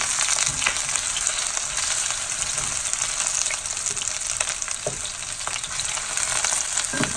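Cauliflower for a Chinese-style vegan orange dish fries in a pan, giving a loud, steady, dense sizzle with crackles and pops throughout, and no voices.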